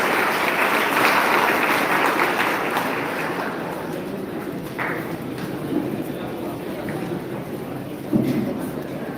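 Sustained applause from a large crowd, a steady dense clatter of many hands clapping that swells early and then holds at a slightly lower level.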